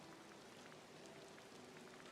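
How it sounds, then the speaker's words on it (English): Steady rain falls in a video game while a plaza and meadow are being built, a soft continuous hiss of drops on surfaces, even and unbroken, with no voices. "Also that it's raining, that's super rude."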